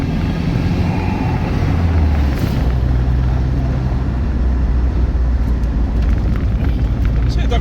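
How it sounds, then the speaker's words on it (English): A Marcos Mantaray 2.0 Turbo Spider on a drive. Its turbocharged engine gives a loud, steady low drone, with wind and road rumble and a faint turbo whine that rises and falls. "You can hear the turbos."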